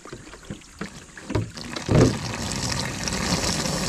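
Water from a natural spring in a rural Philippine farming area splashes and gurgles, starting with scattered drips and swelling into a steady close flow.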